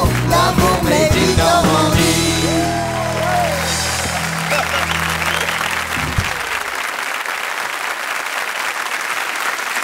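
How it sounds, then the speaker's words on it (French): Audience applause swells after a choral song on a French variety show, with the last sung notes and voices fading in the first seconds before a sustained, even wash of clapping carries on alone. "on peut applaudir aussi"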